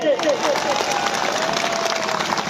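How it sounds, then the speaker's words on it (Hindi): An indoor audience claps together in a dense, steady wash of applause at a public speech, while a voice cuts in faintly underneath. "जोरदार ताली मारिए इसके लिए।"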